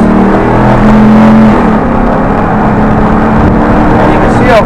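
A Jeep Wrangler with a swapped LS L86 6.2 V8 engine revs under light throttle, giving a loud, close engine drone that rises and then falls as it shifts.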